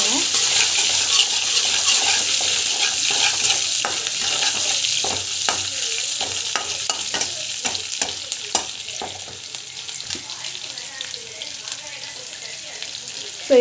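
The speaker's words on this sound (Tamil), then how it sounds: "கடுகு, சீரகம், ஸோ பூண்டு வந்து போடலாம். வதங்கட்டும்." Mustard seeds, cumin and garlic sautéing in hot oil for a simple home-cooked dish, giving a dense, continuous sizzle studded with rapid crackling pops and spatters, close and fairly loud throughout.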